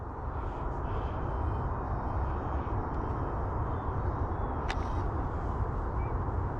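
An RC P-38 Lightning warbird model airplane throttled right down while landing, a steady broad engine rumble with wind noise, fairly loud and unbroken throughout.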